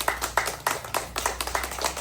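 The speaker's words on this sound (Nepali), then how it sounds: "सबै बुवा आमाहरू एकचोटि सबैले जोरदार ताली पनि पड्काइदिनु होला त" A crowd of elderly parents and community members clapping together at a morning gathering, a run of sharp, close claps in an uneven rhythm over about two seconds.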